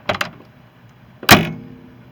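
Doors on a 1980 Jeep Wagoneer, a little stiff, are worked by hand: a quick double clunk as one opens, a pause, then a single loud, solid slam as it shuts tight, close by with no voices.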